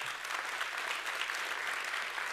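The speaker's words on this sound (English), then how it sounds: "Another round of applause for Hidde and Joris" An audience at a TEDx talk at Wageningen University claps in a steady, dense round of applause that carries on for the whole stretch, heard from a distance.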